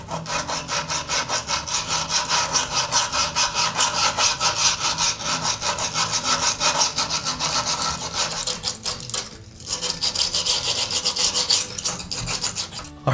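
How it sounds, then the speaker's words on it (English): A hand grout saw with a diamond-grit tip rasps back and forth in rapid, steady strokes, scraping cracked grout from a shower's tile joints, close and continuous with one brief pause. "Then it's just a matter of using the saw to get down into that crack and remove all that grout."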